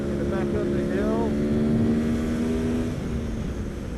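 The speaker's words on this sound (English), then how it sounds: "Wind the bike up a little bit, get some more heat in that rear tire on the edge." A motorcycle engine on a racetrack is held at high revs with a steady, loud droning whine that climbs slightly in pitch before easing off, close and continuous.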